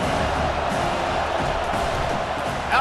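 A steady, loud roar from a stadium crowd cheering during a College Football 25 video game, with a continuous wash of noise and a brief swell at the end.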